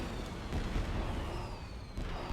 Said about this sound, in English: Fireworks.